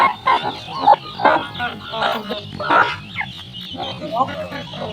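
Chickens cluck repeatedly in short bursts, close by, with a voice talking underneath.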